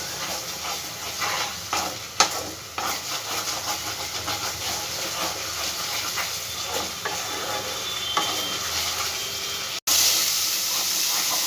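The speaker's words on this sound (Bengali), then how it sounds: "এবার মশলাগুলো সব একসঙ্গে খুব ভালো করে ভেজে নেব" Spices for mochar ghonto, a banana-flower curry, frying together in oil in a pan: a continuous hissing sizzle with scattered scrapes and knocks of stirring, rising louder near the end, no talk.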